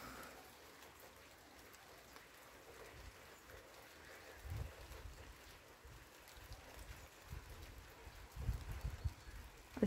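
Soft, steady autumn rain patters quietly in a garden, with faint low rumbles of wind gusting now and then.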